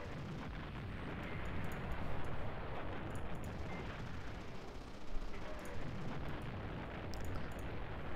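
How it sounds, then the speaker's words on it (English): Airstrike explosions in the World War II strategy game Command Ops: Battles from the Bulge, a continuous rumbling barrage with scattered sharper blasts, loud and dense with no talking over it. "Oh, we have an airstrike."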